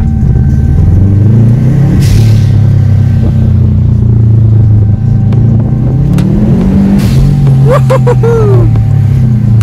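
Audi A5 with a standard engine accelerating hard, a loud close rumbling drone that rises and falls in pitch, with a brief hiss burst near the end from the dump valve.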